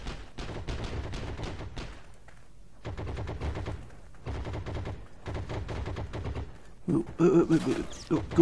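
Bursts of gunfire in the World War II shooter Heroes and Generals, rapid automatic volleys repeating in several clusters separated by short pauses, loud and close, with a sharper, heavier burst near the end.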